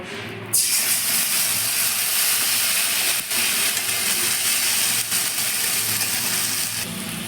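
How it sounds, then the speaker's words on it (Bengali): Ground ginger, cumin, coriander and chilli paste hits a hot pan for a Bengali-style squash dish, giving a loud, steady sizzling hiss that starts abruptly and continues unbroken, close by with no talking. "আমি এর মধ্যে আদা জিরে ধনে আর লঙ্কা বেটে রেখেছিলাম সেটা আমি দিয়ে দিচ্ছি"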